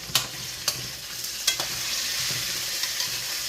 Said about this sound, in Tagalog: Halo-halo. Halo-halo lang.